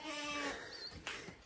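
On a farm, a goat gives a single wavering bleat at moderate distance over faint outdoor background noise.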